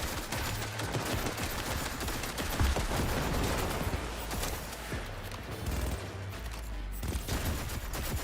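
Gunfire in the video game Cyberpunk 2077: Phantom Liberty, a steady run of rapid, dense shots continuing close and loud for several seconds, with low thumps underneath.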